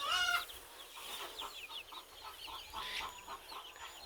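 Several backyard chickens, including young hens, cluck and chatter in short, repeated calls at moderate distance, with a louder burst at the start and steady soft clucking throughout.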